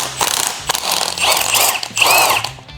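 Powered driver working a stubborn head bolt loose on a 1996 Kawasaki ZX6R, giving close, loud bursts of ratcheting mechanical chatter with short pauses between them.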